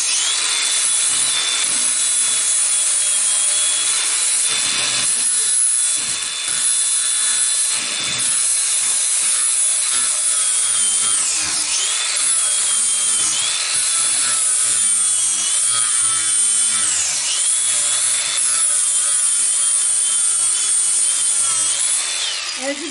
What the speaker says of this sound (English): we're just going to sand these off clean